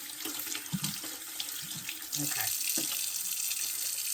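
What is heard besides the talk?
hot water running from kitchen faucet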